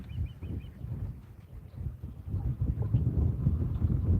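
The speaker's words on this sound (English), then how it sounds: "Can you guys hear a ton of wind?" Low gusty wind buffets the microphone at Lake Talquin while catfishing, in an uneven rumble that builds toward the end, with a few faint bird chirps early on.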